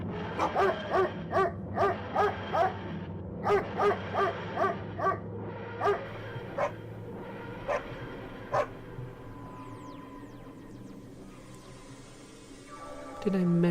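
A dog barks in a steady run of sharp yips, then whimpers, loud and close, with a low background hum and a brief swell of other sound at the end; no one speaks over it.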